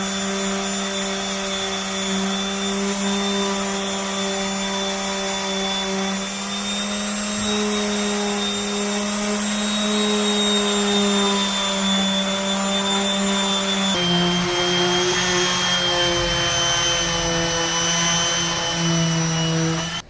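Trim on a Honda CRX is sanded with 320-grit sandpaper under a continuous, loud motor whine, with a slight shift in tone partway through.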